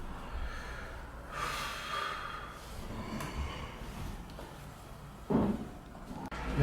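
Snoring from a sleeper at night in a quiet room, a few rough snorting breaths heard alone at low level, with one sharper snort near the end.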